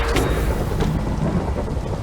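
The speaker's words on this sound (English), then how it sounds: "Finally, thunder and lightning." Thunder rumbles low and heavy over steady rain in the Minecraft video game, a loud continuous storm wash with a deep rolling roar throughout.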